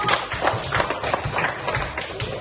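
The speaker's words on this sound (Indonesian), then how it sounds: "Tepuk tangan dulu untuk kelompok 1" Pupils in a primary school classroom clap for the first group, a brisk, uneven run of hand claps at close range, steady for the whole stretch.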